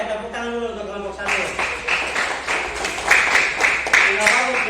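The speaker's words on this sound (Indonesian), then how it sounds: "tepuk tangan dulu untuk kelompok 1" Classroom applause for group 1, a brisk burst of clapping from many hands that swells and holds steady after a moment of talk, close and lively.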